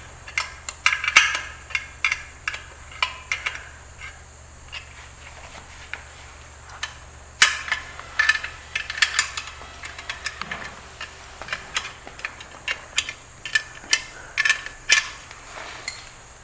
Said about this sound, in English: Once all three screws have been started, proceed to tighten with open end 10mm wrench.